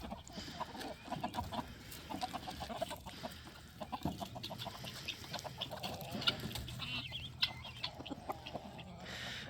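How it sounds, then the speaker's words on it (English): Chickens cluck steadily inside a farm chicken coop, a busy flock of hens making overlapping soft calls with occasional louder squawks, moderately close and continuous throughout, with no talking. "So this is one of our chicken coops."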